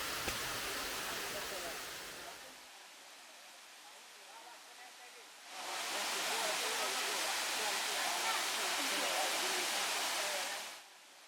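Waterfall on the Buluh Kuring river cascading steadily, a broad rushing roar that drops to a softer wash for a few seconds before surging back loud and close, then cutting off near the end.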